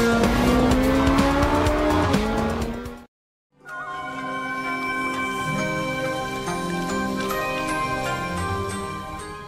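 Race cars roar through the Hot Lap Racing video game, engines droning loudly with tire squeal, cutting out briefly before a second stretch of steady engine noise resumes.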